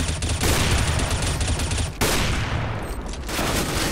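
Rapid automatic rifle fire in CS:GO, loud and continuous, with one brief break partway through before the burst resumes and then eases toward the end.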